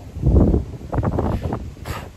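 Strong gusting wind by the sea at the Nakijin Castle ruins in Okinawa, buffeting the microphone in heavy low rumbling bursts with no talk.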